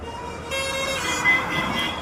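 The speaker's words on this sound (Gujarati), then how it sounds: "ચોટીલાનું ટ્રાફિક દેખાડી દઉં છું." Road traffic in Chotila, a steady hum of vehicles with a car horn tooting in short bursts nearby and a faint voice in the background.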